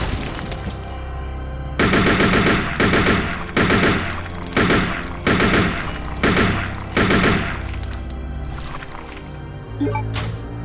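AK-47 automatic gunfire in the video game Resident Evil Code Veronica, loud repeated bursts of rapid shots with short gaps between them, followed by a few scattered booms and impacts, no talk.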